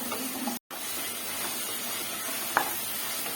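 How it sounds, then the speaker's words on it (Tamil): Tomatoes and cashews with a little salt sauté in a kadai, a low, steady sizzle and hiss broken by a brief silent gap and a single sharp scrape of stirring. "சீக்கிரம் வதக்கிறோம்."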